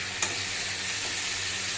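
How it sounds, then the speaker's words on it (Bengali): Potatoes seasoned with turmeric and salt frying in a pan, a steady close hiss with a brief scrape of stirring near the start, no voices. "আলুতে এখন আমি একটু হলুদ আর একটু লবণ দিয়ে আমি এটাকে ভেজে নেব"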